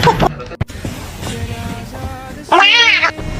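A pet cat gives a drawn-out, rising-and-falling meow near the end, loud and close, after quieter shorter mews and a short sharp thump early on.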